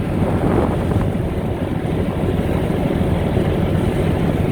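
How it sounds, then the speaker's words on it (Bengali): A passenger launch speeds past at close range on a river, a constant heavy rush of engine drone, water and wind roaring loudly without pause. "দেখেন কিভাবে আমাদের লঞ্চকে অতিক্রম করে। লঞ্চটা খুব দ্রুত গতিতে চালাচ্ছে দর্শক।"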